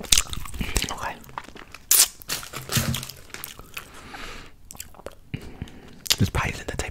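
Close-up gum chewing with wet, smacking bites that come in an irregular, fast rhythm, along with crinkly crunches and hand sounds, and brief whispering in between.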